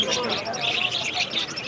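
A busy flock of caged parakeets chirping and twittering nonstop at a night market in Dhaka, bright overlapping calls close by, with a faint murmur of background noise.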